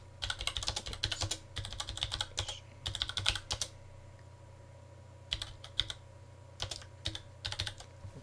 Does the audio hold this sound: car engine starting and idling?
no